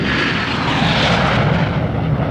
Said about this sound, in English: Superjet starts to descend.